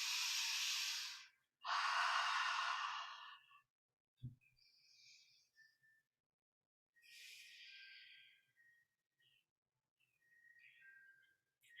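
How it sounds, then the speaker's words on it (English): Slow, deep breaths during a yoga practice, taken close to the microphone: a long, airy inhale and exhale fill the first few seconds, followed by softer, quieter breaths in an otherwise hushed room. "Another full breath."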